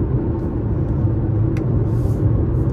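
A Jeep Renegade 1.3 turbo (2023) cruising on the highway at nearly 100 km/h, engine below 2000 RPM: a steady low rumble with road and cabin drone, continuous and even, no voices.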